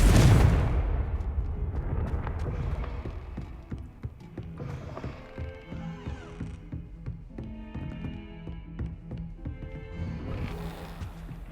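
A Confringo fire spell cast in Hogwarts Legacy opens with a loud burst that fades over a few seconds. Softer game effects and tonal chimes follow, with no talk.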